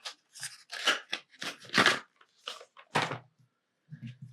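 A trusty unboxing knife slices through the packaging of a Speck Presidio case for a Galaxy Note 9, making a run of short, close scraping and cutting strokes with brief pauses between them.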